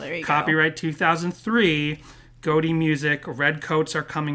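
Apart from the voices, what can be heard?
No distinct noise like a dog, phone or traffic.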